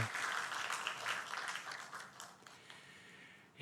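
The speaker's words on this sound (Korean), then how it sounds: "우리 같이 위로의 박수 하십시다." A church congregation claps together during a Sunday service, producing a fairly soft, even patter of many hands that gradually thins out before a sharper burst at the very end.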